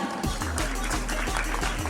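Applause for a child at a pre-primary graduation day ceremony: a short, steady burst of clapping from the gathered audience over a low hum, lasting about two seconds.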